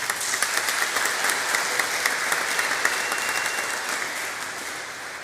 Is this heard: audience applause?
yes